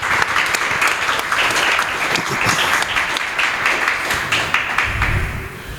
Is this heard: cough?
no